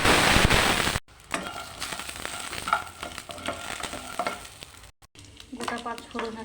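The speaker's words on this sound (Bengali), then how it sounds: "এবার বড়িটা ভেজে নেব" Bori lentil dumplings frying in a pan of oil, a loud burst of sizzling as they go in, then softer crackling and bubbling with stirring scrapes and spatters.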